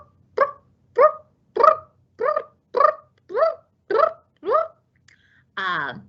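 Gray tree frog call: a run of eight short, evenly spaced burping notes, loud and close, followed by a softer, longer trilling note at the end, with no other sounds.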